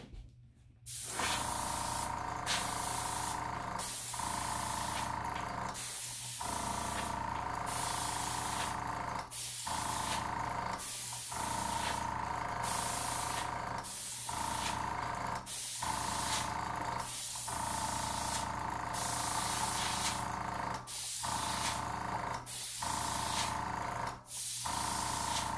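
An airbrush sprays paint over stencils in a string of close, steady hissing bursts, each several seconds long and separated by short pauses, with no talking.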